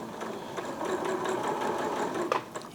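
A Janome sewing machine running a straight stitch, a steady close mechanical whir with rapid needle clatter throughout, a few sharper clicks near the end.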